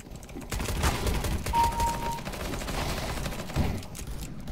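Rapid gunfire in Counter-Strike: Global Offensive during a competitive match, a dense continuous fusillade of shots at steady loudness filling the clip, with no talk over it.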